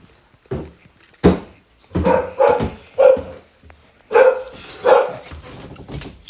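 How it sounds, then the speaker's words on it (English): Four dogs bark in a home, loud close barks and yips coming in bursts that overlap, with a few whimpers between them. "let me show you what life is like when you come home to 4 dogs."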